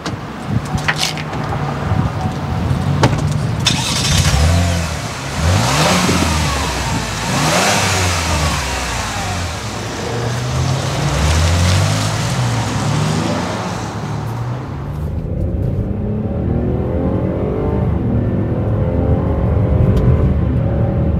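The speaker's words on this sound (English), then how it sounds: "The Chevy Blazer has really good acceleration. The transmission goes through the gears smoothly while it gets up to speed." A 2020 Chevrolet Blazer Premier accelerates on the road, its engine note climbing loudly and dropping at each smooth gear change before rising again, close and steady throughout.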